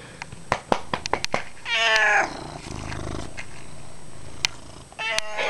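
A house cat gives a loud, drawn-out meow close by, then a low growly purr-like rumble, and a second short meow at the end, among clicks and taps of handling.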